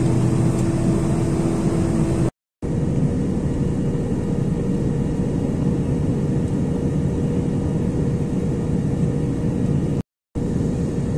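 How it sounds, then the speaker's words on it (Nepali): Steady, loud roar of a passenger aircraft cabin on a domestic flight from Kathmandu as it descends to land at Biratnagar airport, continuous engine and airflow noise broken by two brief dropouts. "अब चाहिँ प्लेन रनवेतर्फ ल्यान्ड हुन आँटेको छ।"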